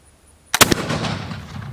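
A flintlock fowler fires a single loud, close shot: a sharp report followed by a rolling, decaying boom that lingers for over a second.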